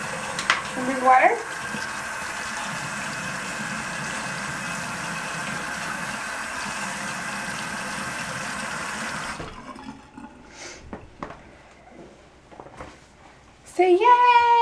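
Tap water runs in a steady hiss into a sink during a child's bedtime toothbrushing, then cuts off, leaving a few small splashes and clinks before a voice speaks at the end.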